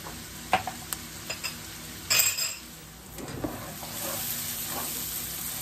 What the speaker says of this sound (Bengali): পেঁয়াজ প্রায় ভাজা হয়ে গেছে